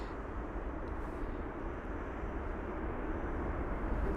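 A Lufthansa airliner in new livery arriving at London Heathrow from Frankfurt, a steady broadband engine roar that holds loud and even throughout, with no talk over it.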